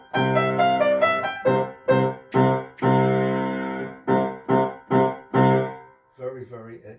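A right-hand piano phrase played in C position, a repeating figure of distinct notes and short chords with soft gaps between them, heard alone and fairly close.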